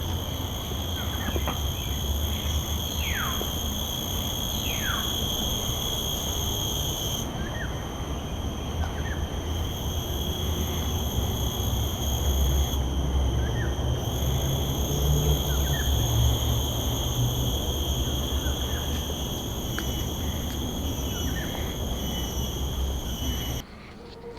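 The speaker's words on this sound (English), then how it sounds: "listen to the natural sounds of the cicadas and crickets along the creek" Dense outdoor insect chorus of cicadas and crickets along a creek, with a steady high-pitched drone over a continuous buzz and a few faint bird chirps.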